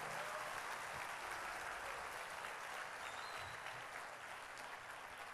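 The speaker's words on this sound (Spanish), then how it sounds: "Dale un aplauso al Señor." A church congregation applauding, sustained dense clapping from a large crowd that holds at an even level throughout, heard at a distance with no voices standing out.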